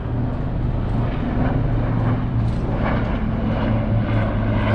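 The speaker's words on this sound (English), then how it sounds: "Got a helicopter flying over pretty low." A helicopter passes low overhead outside a window tinting shop, making a steady throbbing rotor drone that stays fairly loud and continuous, with no talking.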